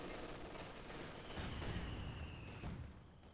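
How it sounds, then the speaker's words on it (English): Mortar firing a smoke barrage in the Company of Heroes 2 video game: muffled thumping shots and blasts over a dense, steady battle din, with a thin high whistle midway. "More smoke barrage from the mortar."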